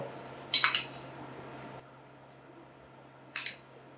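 Metal spoon clinking against a serving dish while sour yogurt is added to ghee-fried lachha semai, two short bright clusters of clinks about three seconds apart over a quiet room hum.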